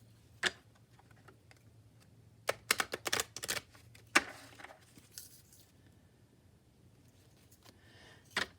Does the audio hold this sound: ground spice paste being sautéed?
no